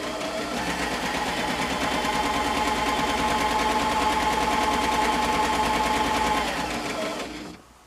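Necchi Artisan 30 S sewing machine stitching steadily at less than full speed, a loud, close, continuous rapid mechanical chatter that runs unbroken before stopping near the end.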